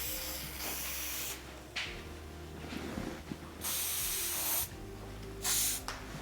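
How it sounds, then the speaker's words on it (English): Schwarzkopf hairspray misted onto styled wavy hair in several hissing bursts of differing length, loud and close, separated by short quiet gaps with faint room noise. "You want just a fine mist of the spray all over"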